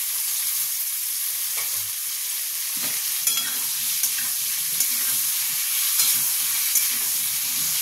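Green chilies and spinach greens fry in a pan with a steady, close sizzle, broken by soft scraping stir strokes and light clinks of the spoon, with no voices.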